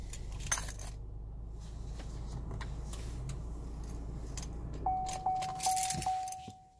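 A 2017 Chevy Malibu key fob jangles in several quick metallic clinks near the end, after a stretch of low car interior hum, with no talking.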